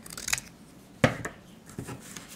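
Scissors cut an espresso-colored cardstock oval in half, giving a few quiet, crisp snips spaced apart with soft paper rustling between them, close up and alone.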